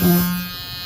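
A brief, close electric buzzing hum from a Frankford Arsenal Vibra-Prime battery-powered primer tube filler shaking, steady and loud for under a second.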